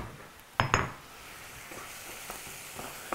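Onion sizzling softly in a pan, gently fried for a vegetarian pâté, with a couple of sharp scraping clinks near the start and light stirring noises over a steady low hiss.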